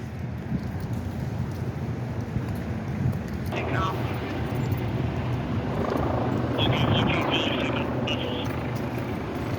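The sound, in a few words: helicopters flying overhead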